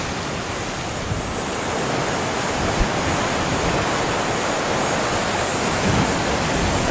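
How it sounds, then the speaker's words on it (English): Big, unusually high surf pounds a beach during a tropical cyclone, a steady roaring wash of breaking waves with wind noise filling the whole stretch, no voices. "the waves are quite big,"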